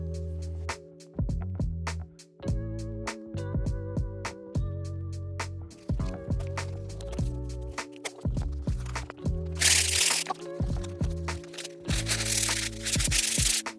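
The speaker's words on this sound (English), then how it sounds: "I'm gonna spray on guide coat and I'm gonna start sanding it." Close, loud sanding on a car bumper coated with primer and guide coat, rough rubbing strokes that start and stop irregularly, with a harsher hiss toward the end.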